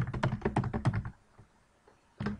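A computer keyboard is typed on in a quick run of close, crisp keystrokes, then a pause and one more key burst, with no talking.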